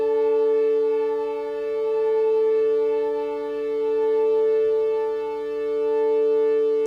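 Two sustained tones a fifth apart sound together while being tuned by ear, their slow, even beating making the volume swell and dip in a regular wavering pulse, steady and alone with no talking.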